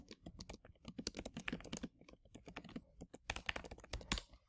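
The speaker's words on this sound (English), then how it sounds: "So I would type in the title here in the search bar" Quiet, close keystrokes on a computer keyboard as a book title is typed into a library search bar, a quick irregular patter of clicks with brief pauses and no voices.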